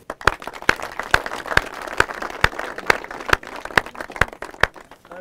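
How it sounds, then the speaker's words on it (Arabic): A small group claps in unison, with strong evenly spaced beats about twice per second over a lighter scatter of other hands. The rhythmic clapping stays close and fairly loud throughout. "عطونا تصفيق عليه."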